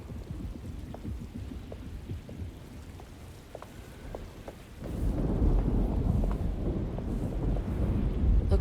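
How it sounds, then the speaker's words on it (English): Wind and rain of an approaching storm with low rumbles, the storm ambience in the 2024 Alone in the Dark remake on PC; faint crackles under a steady roar that swells suddenly louder and fuller partway through. "Looks like a storm's coming."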